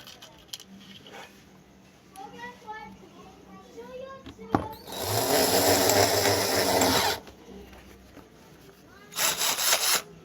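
A corded power drill drives screws into a workpiece during a repair test, whirring loudly for about two seconds and then again briefly near the end, with quieter clicks and handling noise in between.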